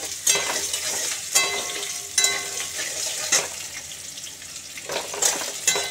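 Thinly sliced potatoes fry in a pan for a ridge gourd curry with lentil dumplings, giving a steady close sizzle broken every second or so by a stirring scrape.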